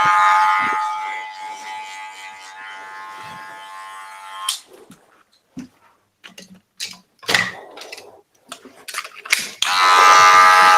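Electric hair clippers buzz steadily with a strong tonal hum for about four seconds during a clipper-over-comb haircut, then cut out, leaving scattered short clicks and rustles before the buzz returns loudly near the end.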